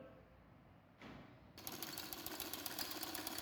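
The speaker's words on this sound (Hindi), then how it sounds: "ये बिल्कुल इसके राउंड राउंड में सिलाई लगा रहे हैं।" A sewing machine stitches around the round armhole of a baby frock, starting with a soft whir and then breaking into a louder, rapid, steady mechanical chatter of needle strokes.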